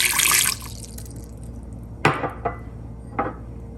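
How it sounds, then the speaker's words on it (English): Water poured from above into a cooking pot for a white bean sauce, a bright splashing stream at the start, then a few sharp clinks and taps of the container against the pot, no voices. "Let's start with the water."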